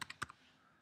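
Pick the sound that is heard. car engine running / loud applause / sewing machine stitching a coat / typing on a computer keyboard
typing on a computer keyboard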